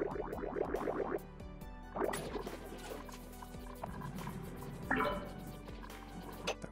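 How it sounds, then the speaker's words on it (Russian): Game water sloshing and dripping as it fills a pipe system in Oxygen Not Included, with bursts of trickling liquid and gurgles recurring over a low steady hum. "Хоть чуть-чуть заполнить систему водой."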